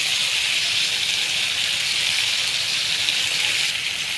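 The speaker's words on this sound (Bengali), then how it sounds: "এবার দিয়ে দেবো কেটে রাখা আলু" Chopped potatoes go into a pan of long beans frying with salt and turmeric, giving a steady, even sizzle and hiss throughout with no voices.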